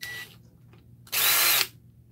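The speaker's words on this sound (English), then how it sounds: "If you're going to use one of these Ryobis, use the drill impact setting." A Ryobi drill running on its impact setting gives one short, loud, high whirring burst after a brief faint mechanical sound, with quiet background between.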